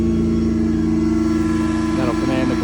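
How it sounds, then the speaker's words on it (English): A truck-mounted air compressor on a 2019 Ford F-550 service truck with 180k miles cuts on, adding a steady mechanical drone over an idling engine, close and continuous, with a brief shift in tone near the end. "That'll command the compressor to cut on."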